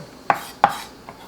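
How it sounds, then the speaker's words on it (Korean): Knife chopping bracken fern shoots (gosari) on a cutting board, two crisp close thuds followed by a fainter third stroke, with no voices. "고사리는 넣고 좀 썰어주세요"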